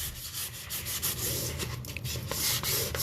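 A cleaning tool scrubbing along painted baseboard trim gives a steady, close rubbing and scraping, soft and continuous with slight rhythmic strokes.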